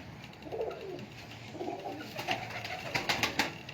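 Pigeons kept for sale in Sheikhupura coo softly in a few low, rounded calls, with faint background chatter and rustling around them.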